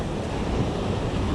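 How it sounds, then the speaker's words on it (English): Ocean surf breaking steadily under a strong offshore wind at a fishing spot, a continuous broadband wash with wind buffeting the microphone throughout, no voices. "These waves are absolutely awesome for surfing today."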